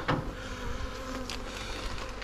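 A dense, continuous hum of honeybees swarms around an opened hive, close and steady throughout with faint clicks and handling noises mixed in.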